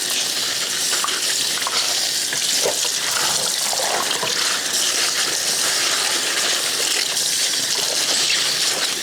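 Collard greens being swished and rinsed in a sink of water during a second wash, a steady close splashing and trickling that runs the whole time without talk.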